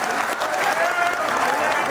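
A community election gathering's audience claps in a loud, dense burst of applause, with a voice talking over it.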